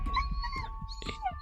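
A dog yelps in a dark house at night, giving a couple of short high whimpering cries over a low background rumble, fairly faint and alone.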